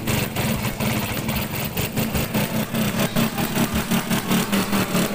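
A Vespa scooter fitted with a balancer and a Suzuki RC magneto set idles at low RPM, a close, steady, loud throb with an even pulsing rhythm that runs through the whole stretch with no one talking.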